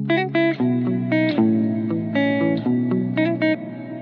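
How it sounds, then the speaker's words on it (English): A dry musical phrase of plucked or keyed synth notes arrives with a long pre-delay reverb that swells in after each attack, leaving a lingering, washy tail between short rhythmic note clusters. "So with the long pre-delay, just here it starts dry and then the reverb kicks in."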